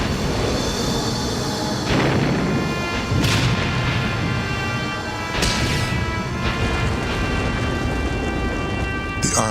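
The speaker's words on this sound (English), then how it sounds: "The army attacks them with its biggest guns, but it is no use." Heavy guns fire in battle against the Martian invaders as they advance on London, a dense rumbling bombardment with several deep booming blasts standing out around three and five seconds amid continuous crackling roar.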